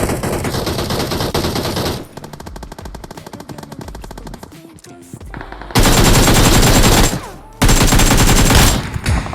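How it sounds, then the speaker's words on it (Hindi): Bursts of rapid automatic gunfire in the mobile game BGMI (PUBG Mobile) during a close-range fight near a building, very loud and dense, with a quieter stretch of scattered shots between heavy volleys. "बाजू में जो ये बिल्डिंग होती है यहाँ पे बहुत जोर से गोली चल रही है"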